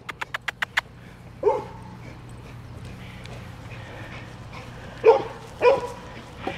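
A pit bull gives a few sharp yips and whimpers spaced apart, close by, after a quick series of clicking taps, over a low steady hum.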